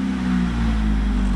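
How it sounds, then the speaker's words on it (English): Electric fuel pump priming in a Ford EF sedan just after the battery is connected, a steady close hum with a low tonal drone holding evenly for the whole stretch. "I hear the fuel pump."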